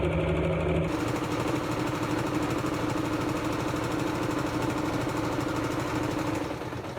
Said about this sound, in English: now I'm going to sew down the flat side, or the long side I should say